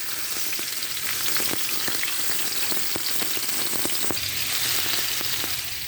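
Steady oil sizzle from frying fish in a pan, with scattered soft scrapes and taps as it gets stirred, close and continuous.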